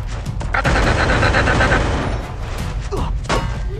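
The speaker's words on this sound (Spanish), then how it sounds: "Escucho disparos abajo." Dense gunfire in the Free Fire battle royale game, a continuous loud fusillade of rapid overlapping shots and booms filling the whole stretch, with no break.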